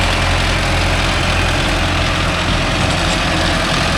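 Mahindra Arjun Novo 605 DI tractor pulling a rotavator among coconut trees: a steady, loud, low diesel engine drone with no letup, running alone without talk.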